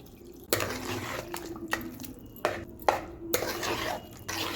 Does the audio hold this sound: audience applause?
no